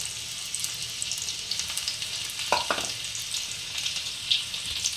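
Chopped garlic dropped into two spoons of hot ghee for an egg dal tadka sizzles steadily up close, with a couple of brief utensil clinks partway through and no voices.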